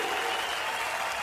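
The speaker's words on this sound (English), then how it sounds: "Wow, you guys just won't stop cheering." Holiday comedy show audience applauding and cheering, a steady, even wash of clapping from a full crowd that holds at one level throughout.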